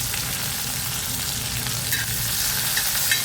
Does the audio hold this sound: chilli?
yes